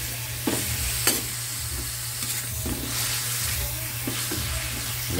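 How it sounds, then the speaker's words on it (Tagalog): Pork and sliced onions sauté in a hot pan for pakbet, a steady sizzle running throughout while a utensil stirs and scrapes in several distinct strokes, close and fairly loud. "Pagkagisa ng sibuyas, lalagay ko na yung karne, panghalo."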